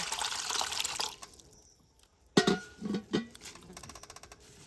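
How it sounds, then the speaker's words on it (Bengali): Leaves being washed by hand in a bowl of water: a stretch of splashing and pouring, a brief lull, then several distinct sloshes and drips as the leaves are swished and lifted, close by and moderately loud. "এবারে একটা পাত্রের মধ্যে জল দিয়ে ভালো করে এই পাতাগুলো ধুয়ে নেব"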